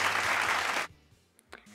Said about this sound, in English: Applause for Orc geniusness!